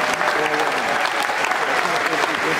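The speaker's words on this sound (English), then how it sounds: "Give them a round of applause." Loud, close applause from a full house at a film festival opening ceremony, a thick steady patter of many hands filling the whole moment with scattered voices beneath.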